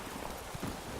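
Horse hooves clip-clop faintly at a steady pace beneath ambient background sound while riding in The Witcher 3: Wild Hunt video game, a brief stretch of soft walking steps.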